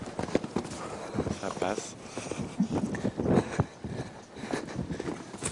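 A show jumping horse fitted with a small microphone on the rider, heard breathing and striking the ground with its hooves during a round at the Longines Masters of Paris, close up under a brief spoken remark.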